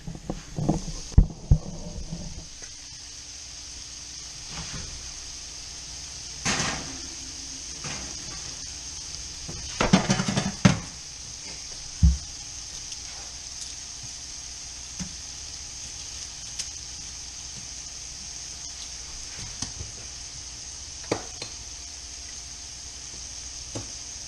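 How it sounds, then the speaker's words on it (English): A filet mignon steak sears in a pan with a faint, steady sizzle, and a few louder clatters and thumps mark the flip and the handling of the pan. "Alright, it's 3 minutes, time to flip the steak."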